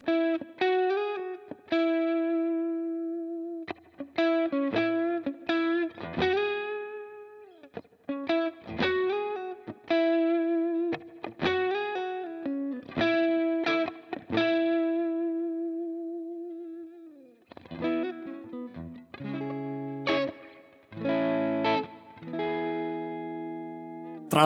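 A PRS SE Standard 24 electric guitar plays clean at low gain, giving bright plucked notes and short picked phrases with small gaps between them. Toward the end it moves into fuller strummed chords, heard alone and at moderate volume.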